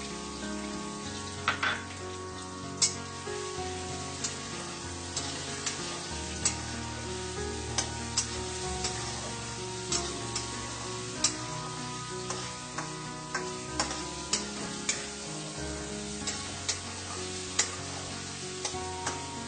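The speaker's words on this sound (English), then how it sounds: "Fry the onions until it becomes slightly brownish pink." Freshly chopped onions sizzle steadily in hot oil in a pan, a continuous crackle broken by frequent sharp stirring clinks and scrapes, close and alone without any voices.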